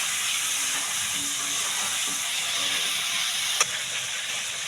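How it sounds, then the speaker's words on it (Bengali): Chicken pieces frying in mustard oil in a kadai for a Bengali chicken curry give a constant, even hissing sizzle at moderate level, close and uninterrupted, with a brief clack near the end and no voices. "আমি চিকেনগুলো ভেজে নেব।"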